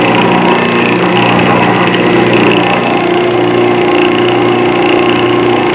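A Jet JWL-1236 wood lathe runs steadily after its speed-change pulley was repaired, giving off a constant motor hum with a whirring drive and faint mechanical rattle, close and loud, with no talking.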